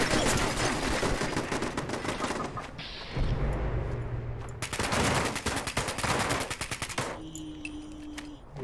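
Automated turrets in the video game Fallout 76 fire rapid bursts of gunfire, loud crackling volleys that stop and start with brief pauses and a deeper boom in between, no talking.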